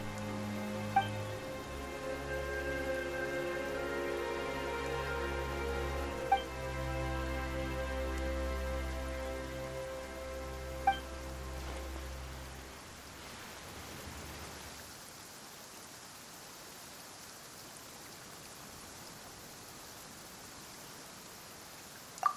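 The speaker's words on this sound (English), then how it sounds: "Why is it raining all of a sudden?" Steady rain falls in the video game Genshin Impact, a soft hiss of drops on surfaces. It sits under a layer of music with a few sharp accents, and the rain carries on alone after the music fades.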